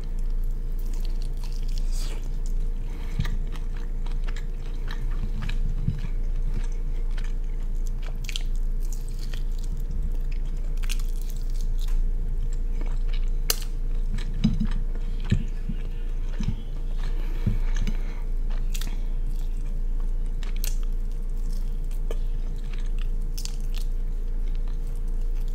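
Close, steady chewing and biting on spicy chicken wings coated in a spice rub and hot sauce, with soft crunches and wet squishes over a constant low background hum.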